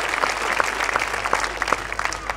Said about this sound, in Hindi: एक बार सरदार जी के लिए आपकी तालियां उठनी चाहिए पूरे मन से, पूरे जोशो खरोश के साथ